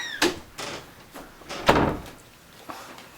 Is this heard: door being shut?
yes